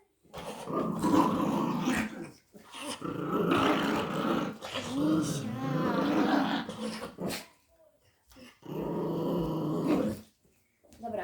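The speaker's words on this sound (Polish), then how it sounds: "Ale zawsze na mnie warczy" A dog growls in long rumbling stretches while being brushed, the growls broken by short pauses, with a person speaking now and then nearby.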